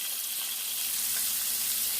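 Shrimp frying in an oiled pan, a loud, even, continuous hiss and crackle of sizzling oil heard close up with no voices.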